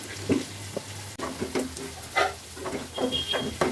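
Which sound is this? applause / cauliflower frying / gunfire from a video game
cauliflower frying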